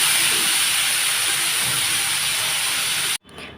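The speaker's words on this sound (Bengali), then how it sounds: "তারপর প্লেটে রাখা মশলাটা দিয়ে ভালোভাবে কষিয়ে নেব" Steady, loud hiss of spice paste frying in a kadai (wok) tempered with nigella seeds for a pabda fish curry. It fills the clip without pause, then cuts off abruptly near the end.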